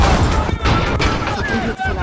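A loud, close explosion in Call of Duty: Modern Warfare (2019), a dense roaring blast that rumbles for about two seconds, with gunfire crackling through it.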